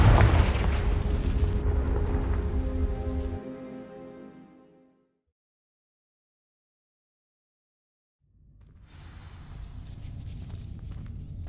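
Confringo fire-blast spell explosion in the video game Hogwarts Legacy: a loud, close boom with a rumbling tail that fades to silence over a few seconds, followed later by low ambient rumble returning.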